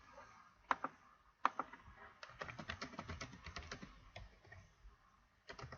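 Typing on a computer keyboard while entering text into a document, with scattered isolated keystrokes giving way to a quick, steady run of clicks, close and fairly quiet with no talk.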